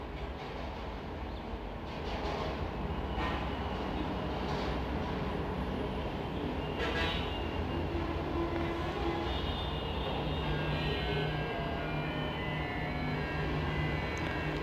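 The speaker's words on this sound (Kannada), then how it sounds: "ಇದನ್ನು ನಾನೀಗ ಎಡ್ಜಿಗೆ ಸ್ಟಿಚ್ಚನ್ನು ಹಾಕ್ಕೊತಾ ಇದ್ದೀನಿ" A sewing machine runs steadily as it stitches along the edge of a blouse, a continuous close mechanical whir that holds at an even level for the whole stretch with no talking.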